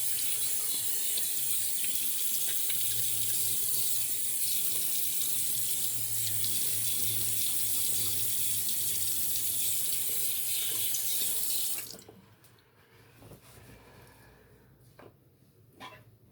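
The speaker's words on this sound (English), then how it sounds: "I just add a little water to it." Tap water runs steadily and loudly at a bathroom sink to wet an Aramis shaving soap puck, a close continuous gush for about twelve seconds before cutting off, leaving quiet room tone with small knocks and drips.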